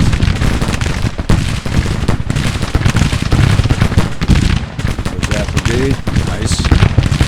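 Musket gunfire from Civil War infantry in Grand Tactician: The Civil War: dense, loud crackling volleys of overlapping shots rattle without pause, with a voice talking over parts of it.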